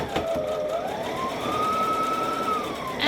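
A sewing machine runs steadily while stitching a hoodie seam, a continuous motor whir with a rising and falling pitch whine and a quick rattle near the start and end.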